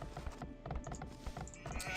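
Sheep bleating in the Age of Empires strategy game, a couple of short nasal bleats over light game clatter, close and fairly clear.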